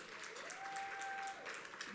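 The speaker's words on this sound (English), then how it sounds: "love that, clap away" Faint applause from an audience at a regional awards event, a brief soft patter of clapping in a large room while a presenter speaks over it.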